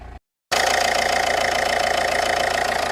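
A Vauxhall Zafira B 1.9 CDTi diesel engine idles close by with a steady, even clatter after a brief dropout at the start, running continuously with a faint knocking rhythm and no voices.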